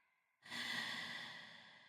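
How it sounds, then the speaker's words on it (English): A deep breath taken during a children's story read-aloud, one long soft exhale or sigh that swells quickly and slowly trails off, heard alone and close. "So Bunnie stopped hopping and took some deep breaths."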